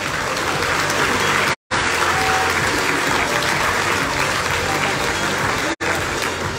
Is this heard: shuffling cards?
no